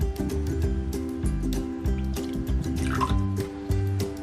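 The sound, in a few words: pouring water into kushari sauce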